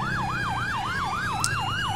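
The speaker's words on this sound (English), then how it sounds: "Sirens are on." A police motorbike siren in the GTA 5 video game wails in a fast, steady up-and-down cycle, loud and close with no talk over it.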